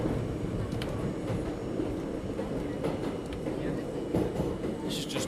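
A New York subway train rumbles along the track, a loud continuous rolling roar with scattered rattles, clunks and a brief squeal near the end, while people talk over it.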